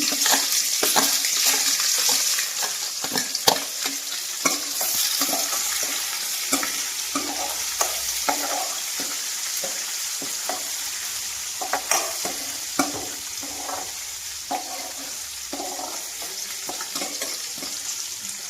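Onion and green chilli pieces fry in hot oil in a pan for a red amaranth stir-fry, a steady close sizzle broken by frequent scraping stirs and clatters of the spoon.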